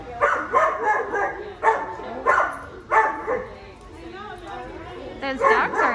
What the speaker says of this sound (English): Those dogs are noisy, huh?